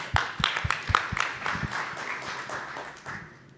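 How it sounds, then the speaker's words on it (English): A conference audience gives a round of applause for a speaker, with a few sharp, distinct claps at first that build into a steady patter of many hands and then fade out toward the end. "Let's give a round of applause to Carolyn."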